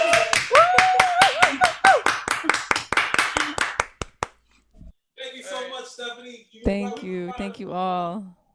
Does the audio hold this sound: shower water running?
no